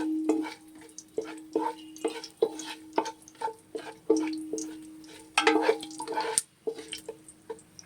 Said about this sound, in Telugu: ఇప్పుడు ఇవ్వండి పలావ్ సామాన్లు ఉన్నాయి కదా, ఇవి కొంచెం దోరగా వేయించుకోవాలండి